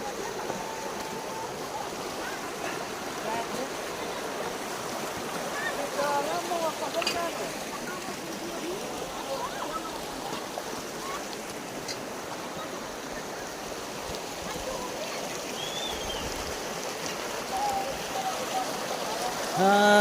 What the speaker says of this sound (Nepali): खोला तर्नु पर्ने रहेछ